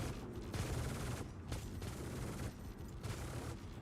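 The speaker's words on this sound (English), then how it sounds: "this guy's annoying me with his guns" Enemy tank guns in a video game firing in dense bursts, loud and continuous with short gaps between volleys, no talking.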